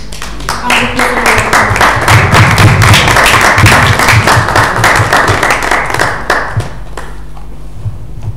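Conference audience breaking into loud, full applause as a speaker walks on stage at a business event, dense clapping swelling then fading out near the end.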